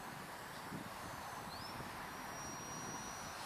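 Inside a Cessna light aircraft on landing approach, a steady broadband engine and airflow drone fills the cabin, faint and even throughout, with a thin high whine drifting across.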